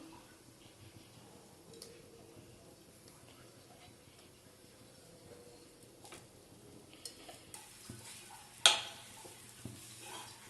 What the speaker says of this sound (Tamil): தேங்காவை போட்டு வறுத்து எடுத்துடலாம்